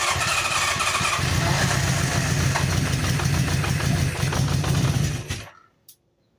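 A 1973 Honda CB500 motorcycle engine running loud and rough at a steady idle, then abruptly cutting out into near silence with one brief trailing pop.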